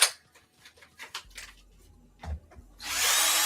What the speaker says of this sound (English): that drill bit isn't nearly long enough